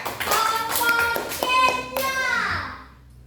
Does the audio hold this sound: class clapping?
yes